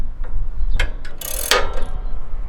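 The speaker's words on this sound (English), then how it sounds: "I'm going to have to use the ratcheting end" Ratcheting wrench turning to spin a part out on a MacDon FD2 Series header during setup, heard as a few brief close clicks and a louder burst of metallic ratcheting in the middle, with no talking.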